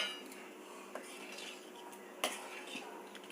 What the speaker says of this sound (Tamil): அப்படியே இந்த பிளேட்டையே அலம்பி அப்படியே விட்டுறேன்.